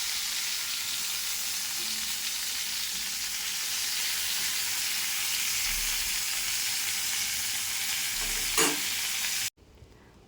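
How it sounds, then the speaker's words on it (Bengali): Slices of pointed gourd fry in hot oil in a pan, giving a steady, even sizzle throughout that cuts off abruptly near the end, with no talking. "পটলগুলোকে উল্টে পাল্টে খুব ভালোভাবে ভাজতে হবে"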